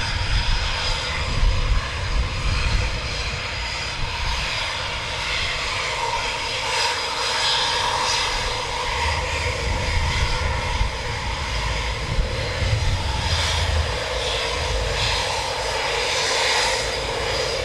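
Military jets departing RAF Coningsby during a NATO exercise, a loud continuous engine roar that holds steady throughout, heard from the airfield perimeter with no talk.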